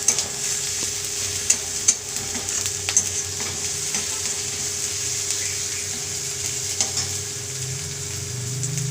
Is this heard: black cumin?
yes